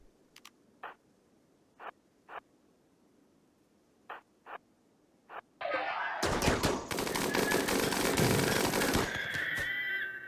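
Several sparse, sharp clicks, then a minigun in the video game RimWorld opens up in a loud, continuous roar of rapid-fire shots lasting several seconds.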